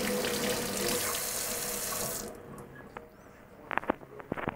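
Tap water runs steadily into a sink as a ceramic dental restoration is rinsed, then the flow stops and a few small wet handling clicks follow nearby.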